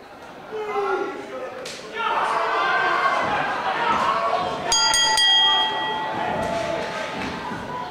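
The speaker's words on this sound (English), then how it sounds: "The bell sounds and we are ready to get things underway." A ring bell at a wrestling show in a comedy club venue rings out over crowd chatter and a commentator's voice, with a few bright metallic clangs in the middle of the noisy room.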